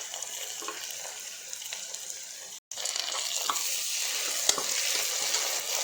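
Ginger garlic paste sizzling in hot oil in a pan for a mutton curry, a steady close frying crackle with faint stirring, broken once by a brief silent gap partway through.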